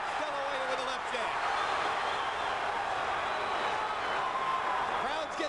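A packed Las Vegas arena crowd at a boxing bout between Oscar De La Hoya and Fernando Vargas roars in a dense, steady wash of cheering and shouts, loud and continuous, with a commentator's voice faintly woven in.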